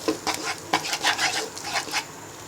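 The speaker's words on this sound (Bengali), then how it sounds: "এবার হোয়াইট সসটাকে ভালো করে নেড়ে নিব" A utensil stirs white sauce for pasta in a pan, producing soft, irregular scraping and rubbing strokes at close range, fairly quiet, with no talk.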